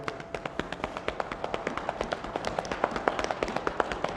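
A group stomping their feet to imitate heavy rain, a dense, fast patter of many overlapping thuds and taps, steady and moderately loud, with no talk over it.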